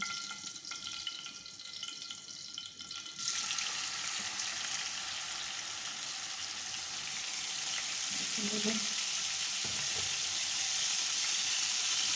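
Green beans sizzle and fry in a pan as tomatoes go in, a steady crackling hiss that grows fuller after a moment, with a brief clink of a utensil near the end.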